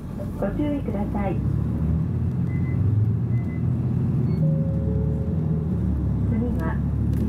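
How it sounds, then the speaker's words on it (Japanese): A Soya Bus service bound for Otoineppu pulls away from a stop in northern Japan: a steady interior engine drone with a few faint beeps and tones, while a recorded voice announces over it. "発車します。 ご注意ください。"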